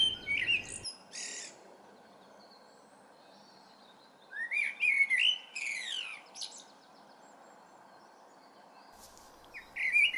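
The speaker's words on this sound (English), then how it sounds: "I'm also a blackbird singing" A blackbird sings outdoors in clear, fluting and chirping phrases in three separate bursts, separated by quiet stretches over a faint steady background hiss.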